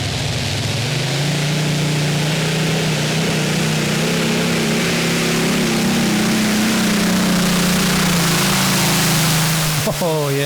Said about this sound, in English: 2 massive Rolls-Royce Griffin engines, and when he opens them up you can really feel the earth move